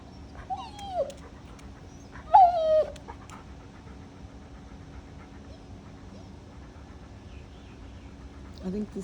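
A confused dog whimpers in two high, wavering whines in the first few seconds, close and clear over a low steady background hum, then quiet with a faint stir at the end.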